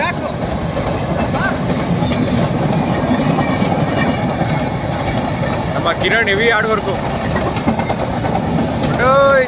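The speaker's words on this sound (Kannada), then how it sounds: "ಎಕ್ಸ್ಪ್ರೆಸ್ ಟ್ರೈನ್ ಬಂತು" A loud express train rumbles and clatters past close by, a continuous roar of wheels on rails, with people talking over it.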